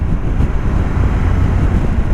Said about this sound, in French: C'est dommage qu'il y a beaucoup de vent.